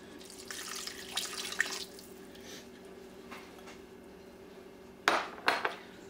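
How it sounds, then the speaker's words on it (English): Water poured from a measuring cup into a pan of browned, partly drained ground beef for taco salad, with two short splashing bursts near the end after quieter kitchen clatter and running-water sounds. "I'm going to add 1/4 of a cup of water."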